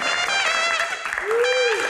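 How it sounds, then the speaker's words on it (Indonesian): An audience at a Q&A talk show applauds to welcome Muhaimin Iskandar (Gus Imin), a steady wash of clapping over tonal music and voices, with a rising-falling tone near the end. "Kita berikan tepuk tangan yang paling meriah untuk Muhaimin Iskandar"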